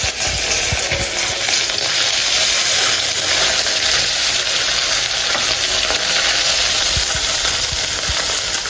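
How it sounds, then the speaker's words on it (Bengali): Puti fish frying in oil in a wok, giving a loud, steady sizzle and hiss that runs unbroken with no voices. "তেল দিয়ে দিয়েছি কড়াইতে, ভাজি করবো এখন"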